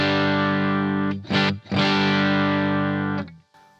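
An electric guitar runs through a Blue Guitar Amp 1 analog preamp combined with a digital preamp, giving a loud, buzzy, distorted sustained chord with a brief choppy break, then fading out, with no talking.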